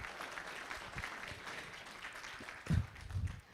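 Audience applause at a fundraiser and birthday celebration, honoring donors: a faint, steady patter of clapping from a roomful of people with a couple of louder bumps near the end.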